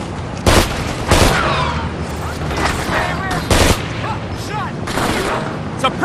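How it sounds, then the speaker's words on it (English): Suppressive gunfire erupts in the Xbox game Ghost Recon 2: Summit Strike, in a government district setting, with loud, sharp bursts of shots and booms repeating through a busy firefight, while voices call out over the shooting. "Suppressive fire!"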